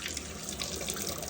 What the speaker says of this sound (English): And it's very warm water.